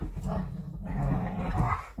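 Dogs growling and grumbling playfully at close range, a steady low rumble with brief yelps, no talking.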